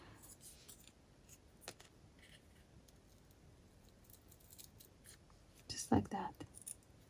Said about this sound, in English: So I'll just continue with scissors